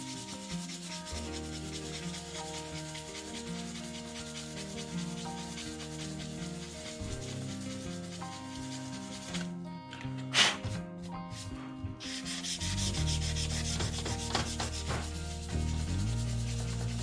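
A hand rubs 600 grit sandpaper over the painted body of an RC Jeep Cherokee shop truck being given a faded patina, a soft repeated scraping in steady strokes with a brief pause midway.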